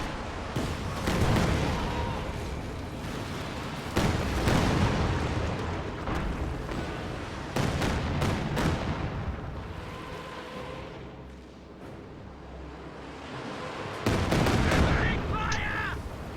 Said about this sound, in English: Ooh, nice Katyusha barrage.